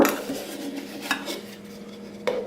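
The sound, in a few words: GSI camping bowl and cup set packed into a pot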